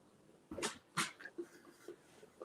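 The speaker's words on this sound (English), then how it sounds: "Now that I finished sneezing." Two sharp, breathy sneezes close together, followed by a few quieter sniffs and breaths.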